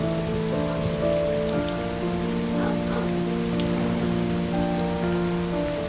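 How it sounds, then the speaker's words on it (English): Steady rain falls on a surface in the video game Heavy Rain, a dense, even hiss of drops running unbroken throughout, with a low sustained musical tone underneath and no talk. "It's raining. I'd better get back inside."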